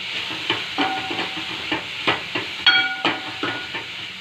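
Tomatoes being stirred and fried in a pan for coriander-leaf rasam, with a steady soft sizzle punctuated by repeated scraping stirs and a few clinks of the spoon, close and fairly quiet.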